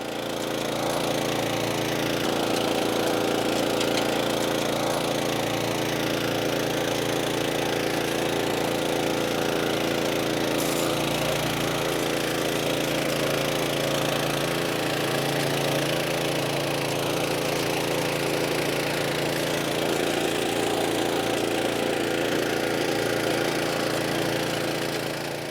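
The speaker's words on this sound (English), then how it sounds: "Now I'll grab the tiller again and till the compost into the soil." Garden tiller working compost into soil, its small engine running in a loud, steady chug from start to finish, with no pauses and no voices.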